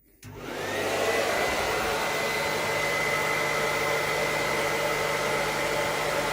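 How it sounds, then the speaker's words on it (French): A hair dryer switches on and runs at a steady, loud, even roar with a whining tone, used as a test load in a home solar and battery setup during a grid outage. "Maintenant, on va démarrer notre sèche-cheveux, qui est ici."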